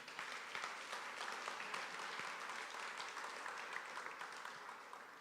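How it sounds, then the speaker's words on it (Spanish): A church congregation claps steadily together during a sermon, a dense, even wash of applause heard from a distance that keeps going throughout. "Denle el aplauso al Señor."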